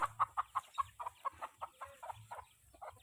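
A mother hen with five chicks clucks in a quick, regular series of soft notes, fairly faint and close, with no talking.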